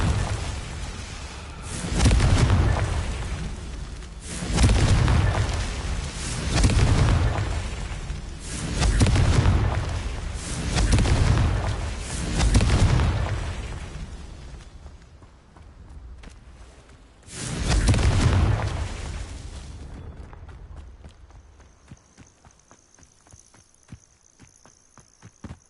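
Repeated booming blasts of the Confringo fire spell in Hogwarts Legacy, roughly every two seconds, loud and close, with a final burst near the end before the scene quiets.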